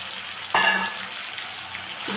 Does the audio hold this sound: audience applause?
no